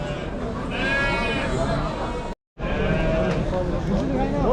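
Sheep bleat repeatedly at a busy livestock market in Kara-Balta, the wavering calls rising over crowd noise and nearby voices, with a short dropout midway.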